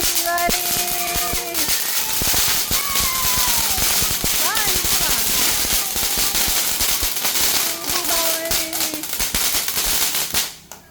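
Rapid Diwali firecrackers burst and crackle almost nonstop at close range, with excited children's voices shouting and chattering throughout.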